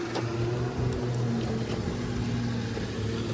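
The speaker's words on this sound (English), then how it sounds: "Excuse the sounds. We got some jet skiers, other boats enjoying the day." Steady engine drone of jet skis and motorboats on the water, a continuous low hum with no distinct pass-by, fairly constant in level throughout.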